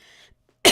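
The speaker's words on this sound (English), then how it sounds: "I didn't mean to cough right in the mic." A single sharp, loud cough right at the end, after a soft hum and near silence.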